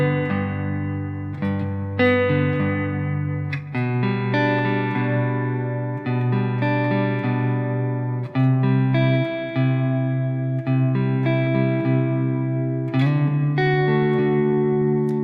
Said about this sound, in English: if I play the same chord progression, but replacing the second G with an inversion of G